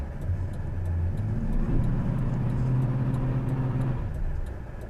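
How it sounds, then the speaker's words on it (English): A 2000 regular-cab short-bed Chevy Silverado pickup fitted with traction bars holds a steady, loud engine roar for about five seconds, swelling slightly midway as if under load, with no voices. "Should we try burnout real quick?"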